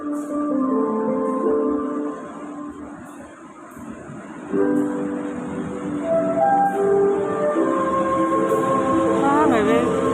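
A locomotive-hauled local train on the Kedungsepur line at a station between Ngrombo and Semarang Tawang gives a steady rolling rumble, with a horn-like tone near the end and talk underneath.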